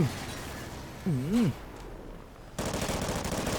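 Rapid machine gun fire in the video game Call of Duty: Ghosts breaks out as a loud, dense, sustained burst of shots after a brief rising and falling electronic tone and a quieter stretch.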